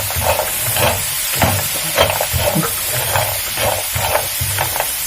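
Roasted groundnuts are stirred with salt in a pan, giving a steady loud rustling, scraping sizzle with rhythmic pulses as the nuts are turned over and over.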